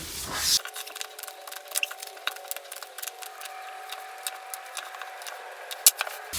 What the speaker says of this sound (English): So let's shuffle the cards and see what comes through.